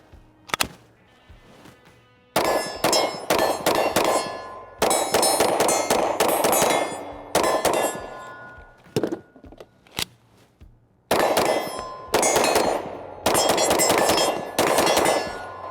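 Gunshots from an MR920P pistol on a shooting range, loud sharp reports in quick strings with short pauses between groups, echoing metallic cracks, no talking.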